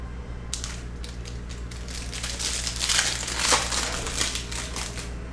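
A 2019 Prizm football hobby card pack being torn open, with continuous close crinkling and crunching foil that swells in the middle and tapers off, no voices.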